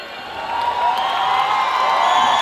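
An audience applauds for the judges at the Miss PTC Punjabi 2019 grand finale. Steady, dense clapping from a large crowd swells slightly and holds at a moderate level, with music beneath.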